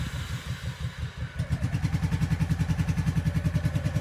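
Engine of a Honda Shadow Sabre 1100 motorcycle running close by, rough and uneven at first, then settling into a steady, loud, rapid pulsing idle.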